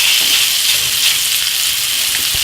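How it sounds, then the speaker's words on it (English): Pork browns in a hot pan with a loud, dense, continuous sizzle that stays steady throughout, close to the microphone with no talk over it. "I hope it's not going to sizzle too loud and drown me out."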